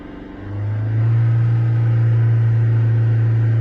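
The diesel engine of a pre-2011 Citroën C3 1.4 HDi revs up from idle and holds a steady, loud, low drone for a few seconds, close by, with no voices.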